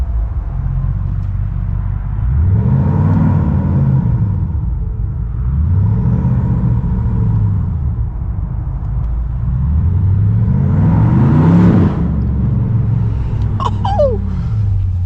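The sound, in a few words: BMW M550i engine revving with launch control spooling up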